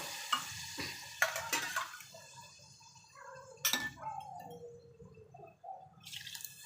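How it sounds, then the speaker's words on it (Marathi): Two cups of water poured into a cooking pot holding a minced goat-lung mixture for a Malvani-style dish, heard as close trickling and dripping with sharp clinks of utensils on the pot, no voices. "पाणी घालत आहे"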